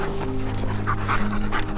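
A dog panting softly and steadily at close range, a quick rhythmic breathing over low room noise.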